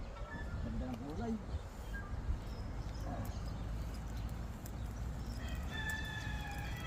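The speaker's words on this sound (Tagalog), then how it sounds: "Tumitilak na manok." Rooster crowing early in the morning in a rural Philippine province, faint and distant behind steady outdoor background noise, with people talking nearby.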